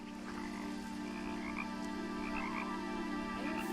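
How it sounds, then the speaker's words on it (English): Frogs croak steadily in a quiet night ambience inside the video game What Remains of Edith Finch, a few closer calls standing out over a continuous distant chorus with no voices. "I hear frogs."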